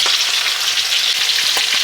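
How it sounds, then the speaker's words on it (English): Lamb chops frying in a pan, a bright continuous sizzle with scattered pops and crackles, close and steady, no talking. "that's a nice gentle fry on here"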